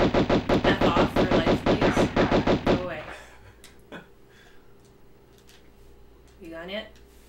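Rapid automatic gunfire from the video game Tomb Raider, a loud, fast, even burst of shots lasting a few seconds, then quieter game ambience with brief effects and a voice.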